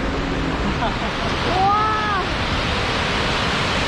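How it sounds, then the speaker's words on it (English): A tiny waterfall on an autumn hike in Letchworth State Park, heard as a steady, broad rush of falling water throughout, with a brief excited exclamation partway through. "This is a tiny waterfall."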